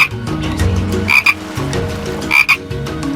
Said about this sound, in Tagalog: Kaibigang palaka.